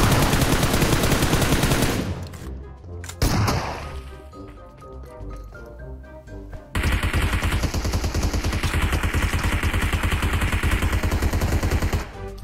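Rapid bursts of automatic gunfire shooting at a boss in PUBG Mobile, loud and close, with heavy continuous firing at the start and end and a brief quieter gap in between.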